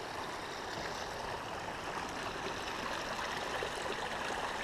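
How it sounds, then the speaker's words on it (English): A mountain stream on a hike near Diamond Lake rushes steadily, a continuous broadband wash of running water at close range with no pauses. "I love running water."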